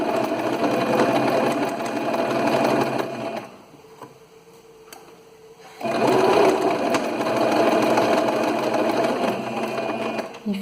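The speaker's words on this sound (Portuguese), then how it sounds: "aqui na nossa máquina, a gente vai continuar costurando a meio centímetro com um ponto pequenininho" A domestic sewing machine runs steadily, stitching custom bias tape with a small stitch at a half-centimetre seam, pausing for a couple of seconds midway before resuming its loud, even whir.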